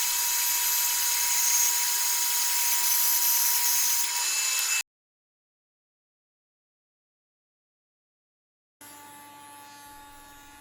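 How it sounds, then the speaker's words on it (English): A saw resaws 1-inch thick wooden aprons into half-inch pieces for a computer monitor stand, giving a loud, steady whine that stops abruptly, leaves about four seconds of silence, then starts again. "Next, I'll resaw these 1-inch thick aprons into 1/2-inch pieces."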